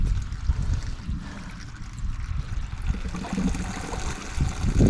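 Water pours from a hose into a tub for calves on a farm field, a steady rushing trickle and splash under continuous low rumble, moderately loud and unbroken.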